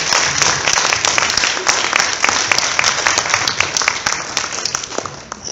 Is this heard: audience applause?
yes